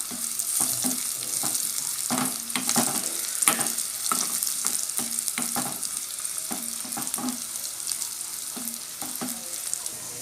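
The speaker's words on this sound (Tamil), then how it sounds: "அதனால தான் நாங்கள் தாளிக்கிறோம்" Spices crackle and sizzle in hot oil, with repeated stirring scrapes in an irregular rhythm; no one speaks.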